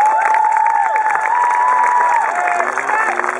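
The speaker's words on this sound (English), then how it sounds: "can we give them a big round of applause now?" Audience at a school awards ceremony clapping and cheering, with loud crowd noise, shouts and voices layered over steady applause throughout.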